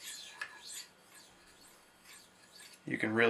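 A blade bevel is drawn across a sharpening stone in soft, quiet scraping strokes, a few rasping passes spaced apart, ending with a brief louder clatter.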